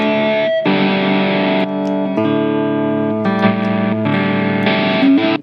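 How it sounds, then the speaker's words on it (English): A smart guitar plays sustained distorted tones that shift between different effect settings, with held notes and chords changing every second or so. The sound is loud, close and continuous, with no talking. "Changing tones like this, right?"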